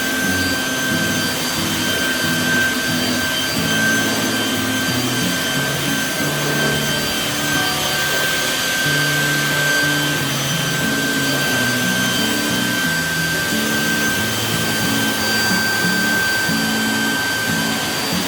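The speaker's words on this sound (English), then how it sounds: "We went and bought a blower. And we're like blowing off all the sand." A leaf blower roars continuously, blowing sand off a Lincoln Continental convertible being readied for paint, a steady loud rushing drone with no break.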